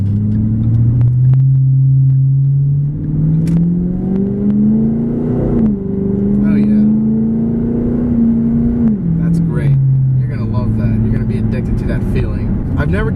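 Steady low V8 drone of a 2011 Ford Mustang GT driving through a corner, its pitch swelling and then easing off as the car slows, with someone talking over it throughout.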